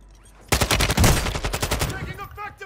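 Rapid automatic gunfire from Call of Duty: Modern Warfare II crackles in a loud, dense burst of repeated shots lasting about a second and a half, then tails off into quieter sounds.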